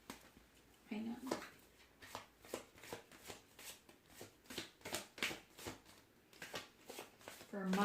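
Tarot cards shuffled by hand in a quiet room, a quick run of soft, papery riffles and slaps, with a voice speaking briefly near the start and end.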